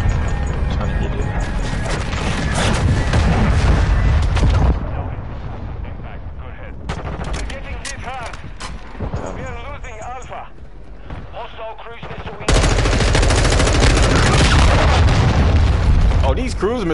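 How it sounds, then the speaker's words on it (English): Cruise missile explosions and gunfire in Call of Duty Modern Warfare II during a multiplayer beta match, loud booming blasts and crashing impacts in heavy bursts that drop briefly before surging again, with players talking over the action. "these cruise missiles are insane"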